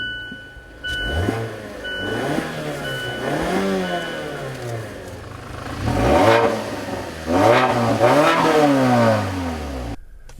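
A 2015 Mazda6 on all-season tires, in sport mode, accelerates hard around the tight IMI Motorsports Park track north of Denver. The engine climbs repeatedly through rising revs between upshifts, loud and close from inside the cabin, with no talk.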